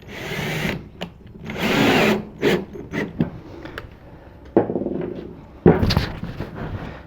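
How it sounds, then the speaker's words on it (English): A power drill driving a screw with a Phillips bit to fasten a handle onto a wooden box, in short whirring bursts of varying length between pauses and handling clatter, close and fairly loud. "We're going to drill that right in."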